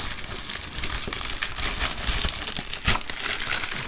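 A plastic DHL parcel packet being opened, giving close, irregular crinkling and rustling with sharp crackles and one louder tearing burst, loud, with no speech.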